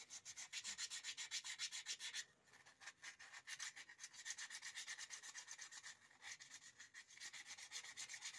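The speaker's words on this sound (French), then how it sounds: "Donc voilà, on va le poncer" Close, steady sanding on a metal part of a manual vise during restoration, with rapid regular back-and-forth scratchy strokes and one short pause partway through.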